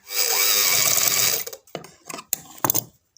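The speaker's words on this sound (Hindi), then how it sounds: "अब आप सिलाई लगाएं और इस जगह पे अच्छे से पक्का कीजिएगा।" A sewing machine stitching a frock, one loud continuous whirring run of needle strokes for about a second and a half, then several short bursts and clicks as the fabric is adjusted.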